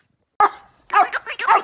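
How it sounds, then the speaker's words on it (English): A dog barks excitedly at a new chew toy: one sharp close bark, a pause, then a quick run of yipping barks, loud and with no talk over them. "He always barks and gets so excited."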